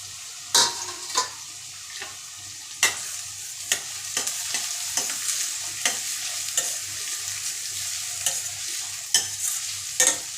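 Green chillies and curry leaves frying in a pan for gongura rice, a steady sizzle with sharp stirring clinks and scrapes of a utensil against the pan at irregular intervals, close and alone.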